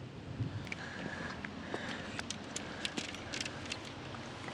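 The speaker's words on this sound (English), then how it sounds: "It's really pouring down right now." Heavy rain pouring down at a river bridge, a steady soft hiss scattered with close pattering drops and small taps, quiet and continuous.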